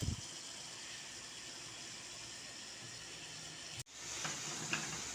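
Mushrooms, cooked with onion and egg, sauté in a pan with a soft, continuous sizzle and hiss, fairly faint, briefly interrupted and then resuming with gentle stirring.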